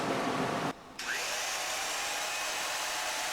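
Line boring cutter with a 1/4 inch tool working a Kubota dog bone link, a loud steady machining whine and hiss that stops briefly and then resumes at constant level, no speech.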